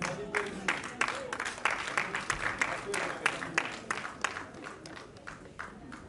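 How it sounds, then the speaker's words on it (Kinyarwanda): Applause welcoming Fanny Lavine at a certificate ceremony in Rwanda, a steady patter of hand claps spreading across the room over several seconds, moderately close and fairly even in loudness. "Reka tumukomere amashyi tumwakire"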